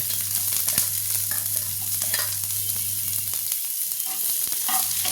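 Onions frying with cumin seeds in hot oil give a steady, close sizzle broken by scraping stirs, with a low hum underneath for the first part. No one speaks.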